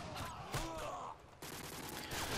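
Gunfire in Call of Duty: Modern Warfare 2 on PC, with sharp shots and bursts in a short, faint stretch of game audio.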